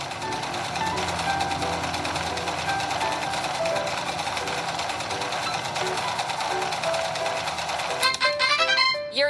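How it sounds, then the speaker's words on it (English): A cartoon sewing machine stitches doll wings in a fairy doll fashion game, whirring steadily with a rapid mechanical stitch beneath light chiming game music, ending in a quick run of bright tones. "Now we're sewing the wings."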